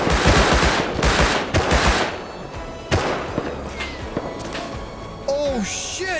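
Rapid covering gunfire in the video game Rust, with loud dense bursts at the start followed by a few scattered single shots, and a voice talking in the background.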